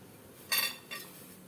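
Boiled wheat-flour dumplings are lifted out into a kitchen vessel, making two quick, close metallic clinks of utensil against dish in quiet surroundings.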